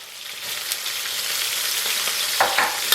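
Seasonings stir-fried in chili oil in a wok over low heat, a steady close sizzle and frying hiss with a few scraping stirs of the spatula near the end.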